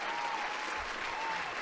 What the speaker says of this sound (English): Can we get a clap for her?